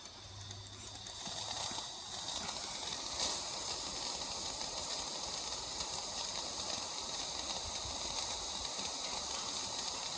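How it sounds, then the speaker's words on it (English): A steam blower hisses steadily on a live steam Aster Merchant Navy model locomotive in CANPAC livery, a loud continuous close rushing hiss that holds unbroken throughout. "As we've got the blower working quite nicely now"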